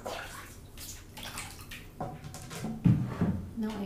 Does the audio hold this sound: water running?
yes